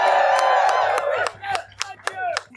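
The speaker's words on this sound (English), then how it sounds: "Y'all can cheer for that." Audience at a political rally against fascism clapping and whooping after a sustained voice, the crowd noise breaking into scattered sharp claps and cheers that thin out toward the end.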